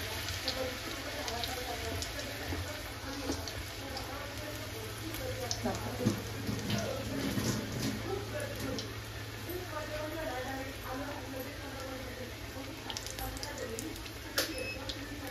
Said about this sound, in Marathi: आता आपण एक तळून तुम्हाला मी दाखवते